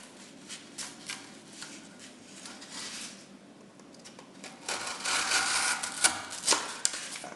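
A fine-edged knife of M390 or Sandvik 14C28N steel slices through cardboard along the grain, making soft scraping and rasping strokes that grow louder and denser toward the end, close and without talk.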